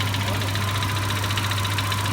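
Citroen C4 with a 1.6 NFU engine idling with an engine knock, a steady low mechanical hum with a faint rapid ticking pulse running through it, close up and constant.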